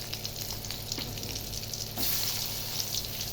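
Chili dropped into hot oil in a pan, a continuous close sizzle and crackle that swells louder partway through as it fries, with faint stirring and no talking.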